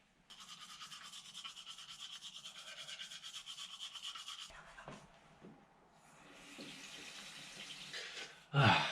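A $99 toothbrush buzzes steadily in rapid, pulsing scrubbing for several seconds, then stops; quieter rustling, water and a sudden close knock follow.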